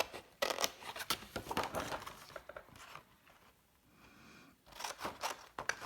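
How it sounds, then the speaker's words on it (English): Scissors snipping through a paper file folder to cut out its pocket along the score line, a string of close, crisp cutting and crinkling bursts with a quieter pause in the middle. "I'm going to take a pair of scissors and I'm going to cut out where that pocket is supposed to be"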